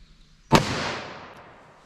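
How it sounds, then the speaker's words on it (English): One loud, sharp .38 Special gunshot from a short-barrel gun during ballistic testing, a sudden crack followed by a long, fading echoing tail, with no voices. "Let's try our 38 special in our short barrel now."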